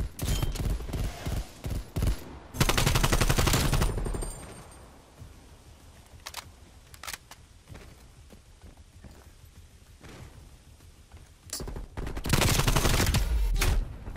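A Call of Duty Cold War gunfight in a Raid Hardpoint match brings loud bursts of automatic gunfire in two heavy clusters, with quieter scattered shots and footsteps between them.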